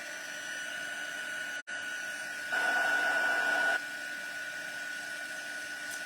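A heat gun runs steadily for embossing on a card, giving a constant whirring blower hum with a brief dropout and a louder stretch in the middle.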